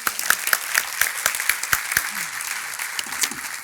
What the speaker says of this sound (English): So big round of applause from Independence Bank, Minga Troglin.